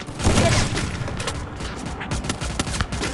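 Gunfire from an AWM sniper rifle in the Free Fire video game: a burst of loud, sharp shots crackling one after another in a dense volley, with faint game sounds between them.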